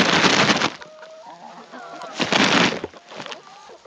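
Hens clucking and chattering nearby in short bursts, with bursts of broadband rustling and a voice talking intermittently.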